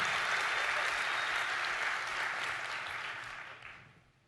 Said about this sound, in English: a big round of applause for Alex